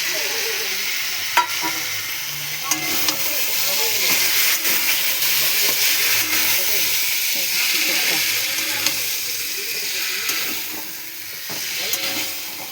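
Chicken frying in a wok with a little oil, a continuous loud sizzle and hiss with occasional scraping stirs and faint clicks of the utensil.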